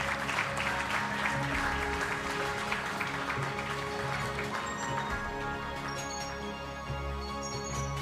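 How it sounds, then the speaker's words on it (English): Audience applause at an awards ceremony, a dense, steady wash of clapping from a large crowd that holds for the whole stretch without fading. "please, a round of applause"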